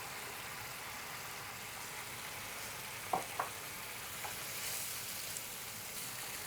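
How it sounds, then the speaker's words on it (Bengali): Whole spices, including bay leaf, cinnamon, cardamom and cloves, frying in oil for a Bengali curry, making a faint, steady sizzle with a couple of soft clinks partway through. "এই মশলাটা আমি অনেকক্ষণ ধরে কষাবো"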